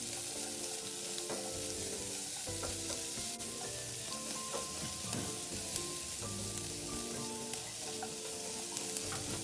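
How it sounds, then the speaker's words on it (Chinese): Shrimp and diced onion stir-fry in a wok for fried rice, a steady close sizzle broken by scraping and clacking of the spatula at irregular intervals, with no talk. "一起炒香。"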